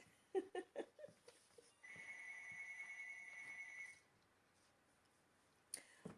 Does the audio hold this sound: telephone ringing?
yes